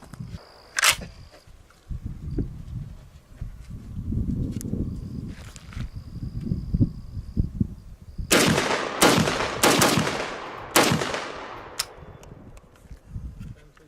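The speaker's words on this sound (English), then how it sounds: "just shooting bench shots, not really tightening my groups in, not really trying to" Gunshots from a C308 battle rifle fired from a shooting bench at an outdoor range: a loud crack early, then a rapid string of four sharp shots in the second half with echoing tails, and low handling noise in between.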